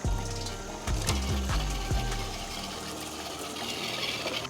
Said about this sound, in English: Oh yeah, time for some water crossings.